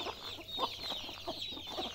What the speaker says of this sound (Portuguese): Jogamos um milho aqui para as galinhas. Galinha toda comendo.